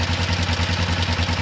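A motorcycle engine idles steadily, a low rhythmic chugging pulse with light mechanical clatter, close and continuous.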